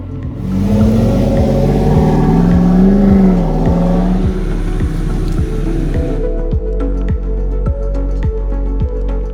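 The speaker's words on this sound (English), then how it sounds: "a sports dual exhaust with black ceramic tips that growl with a purpose" A Land Rover's 6.2 litre V8 with sports dual exhaust and black ceramic tips rumbles loudly and close, swelling into a revving growl before settling into a steady, pulsing idle.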